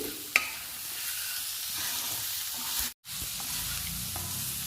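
Cumin, coriander powder, ginger-garlic paste and onions frying in a pan for gongura egg curry give a steady close sizzle with stirring scrapes, briefly cut off near the end before resuming.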